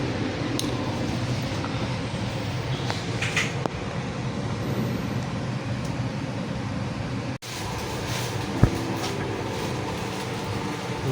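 Interior of a new-generation economy-class KRL commuter train car travelling toward Cirebon: a steady rumble of the moving carriage with air-conditioning hum, soft rattles and a brief sharp knock near the end.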